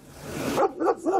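Dog barking during a police traffic stop: a few sharp barks in quick succession after a noisy start, fairly faint and distant.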